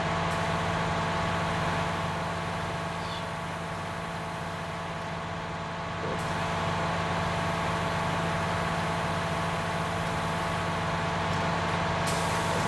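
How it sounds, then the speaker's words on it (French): A tractor engine in the video game Farming Simulator 19 drones steadily at a low, even pitch, rising slightly in intensity partway through as it accelerates, with a constant mechanical hum and no talking. "on entend le régime moteur du tracteur qui accélère"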